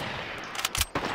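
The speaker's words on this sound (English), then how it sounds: "You're shooting me." Video game gunfire in a short burst of rapid, clipped shots, a few bunched bangs over a soft steady background, with no talking.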